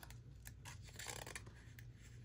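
Scissors snipping paper while trimming a printed piece for an October journal, a close, soft run of rasping cuts and rustles over a low steady hum.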